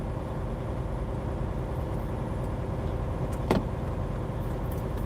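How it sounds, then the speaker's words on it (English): A semi truck's diesel engine idles steadily in freezing cold weather, a low continuous rumble close by with a brief higher squeak or whine near the end and no voices. "I'm also running the truck"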